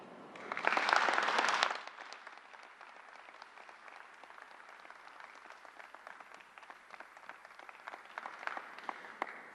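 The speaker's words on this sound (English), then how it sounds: "let's have a big round of applause" Audience applause at a vaccination press event at Suffolk County Community College, opening with a loud burst of cheering and clapping, then settling into steady, lighter scattered claps that carry on to the end.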